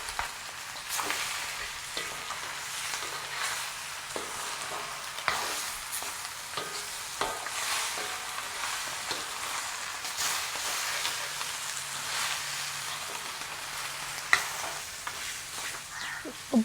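A mutton curry sizzles steadily in an oily pan while a spoon stirs it, with intermittent scraping strokes over the constant close frying hiss; no talking.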